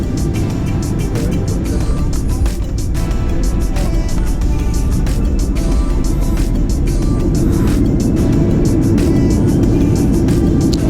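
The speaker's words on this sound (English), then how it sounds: "followed by a very significant amount of reverse thrust, which gave rather this lovely effect onto the runway" A Jet2 Boeing 737-800 roars with reverse thrust after touchdown at Geneva, heard from inside the cabin as a loud, steady, unbroken engine rumble and whoosh with rattling over the whole stretch.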